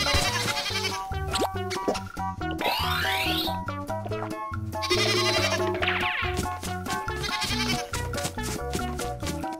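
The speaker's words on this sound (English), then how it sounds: "goat." Cartoon goat bleats over bright, busy children's music with bouncy toy-like effects. The bleats are short and a few seconds apart, and the music stays loud and steady throughout.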